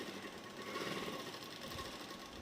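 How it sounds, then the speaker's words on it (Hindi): A sewing machine stitches a half-inch seam along one side of a salwar belt, giving an even, close mechanical hum that runs without a break and without speech. "इस तरह से मैं 1/2 इंच पे सिलाई लगा दूँगी।"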